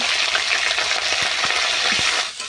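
Potato and cauliflower hit hot oil seasoned with panch phoron and green chilli, a loud dense sizzle with a few stirring knocks, easing slightly at the end.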